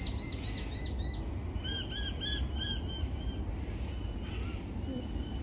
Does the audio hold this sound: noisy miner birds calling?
yes